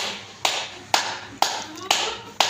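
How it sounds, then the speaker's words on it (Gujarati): Five sharp hand claps at an even, unhurried pace, close and distinct, each ringing briefly before the next, with no talking between them. "આજે હું તાળી વગાડું છું"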